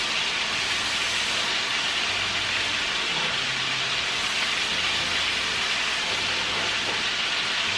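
Cabbage with onion frying in a pan gives a steady, even sizzle and hiss that carries on without a break, close and moderately loud, with no voices.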